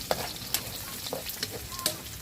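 Onions sizzle steadily in a hot pan, broken by a handful of sharp scraping stirs spaced about half a second apart, close and clear with no voices.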